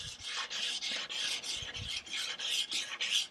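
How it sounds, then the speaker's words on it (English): Sanding block with 220 grit paper rubbing over wooden furniture legs, rounding over the edges in about a dozen quick, even back-and-forth rasping strokes, close and fairly quiet, with no talk. "let's grab the sanding block here, some 220 grit paper, and we'll start working"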